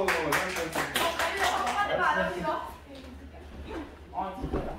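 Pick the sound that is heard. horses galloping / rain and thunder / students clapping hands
students clapping hands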